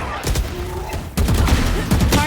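Rapid bursts of rifle fire come from a VALORANT esports match, with loud, close shots in quick clusters and a short pause between the bursts.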